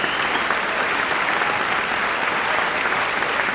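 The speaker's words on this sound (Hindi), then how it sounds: "ज़ैनब के लिए जोरदार तालियां।" An audience claps loudly and steadily for Zainab as she is called onto a stage, a dense wash of applause that holds at a constant level without a break.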